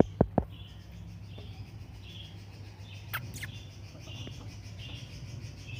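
Birds chirp faintly outdoors at a cricket academy, with a few scattered thin calls over a steady background hum and a couple of sharp knocks near the start.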